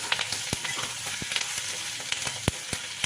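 Onions fry in a pan with a close crackling sizzle, broken by sharp spatula knocks and scrapes at irregular intervals.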